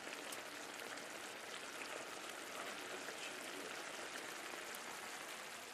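Mexican rice bubbling in a pot on the stove, a steady, close, fizzing and crackling simmer that keeps an even level throughout, with no voices over it.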